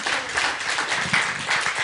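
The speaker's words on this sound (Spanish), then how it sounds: "Give the Lord a hand for His word." Church congregation applauding after a sermon, a steady wash of many hands clapping throughout without pause, fairly close and even in loudness.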